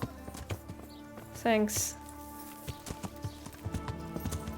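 Horse hooves clop in a steady, close rhythm through a medieval village in Kingdom Come: Deliverance, with a brief whinny partway through and a short spoken word over the hoofbeats.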